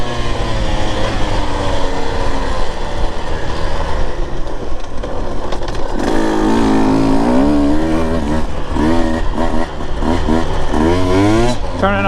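A Husqvarna TE 150 TBI two-stroke dirt bike engine runs in third gear through a sandy section, a loud steady buzz that surges and revs repeatedly in the second half, with a rider's voice over it.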